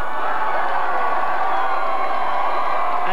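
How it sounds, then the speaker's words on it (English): A huge crowd roars and cheers at the Toronto Blue Jays 1992 World Series parade, a continuous dense wall of voices, whoops and applause, loud and sustained throughout. "As the crowd gets a glimpse of a different player, you hear a roar, just a roar."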